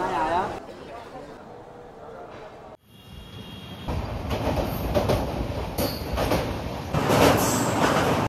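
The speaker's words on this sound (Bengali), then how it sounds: "ছেড়ে দিল আমাদের ট্রেন পুরো সঠিক সময়ে 7টা বেজে 40 মিনিট।" A train pulls out of a station on schedule, a steady broadband rumble of wheels and carriages building after a brief drop, with faint squeals and voices in the background.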